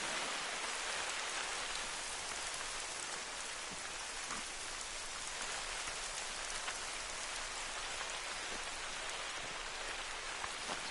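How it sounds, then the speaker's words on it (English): Steady, dense rain falls throughout a wilderness hunting scene in the video game theHunter: Call of the Wild, a continuous close hiss with no voices. "Oh, rain's picking up."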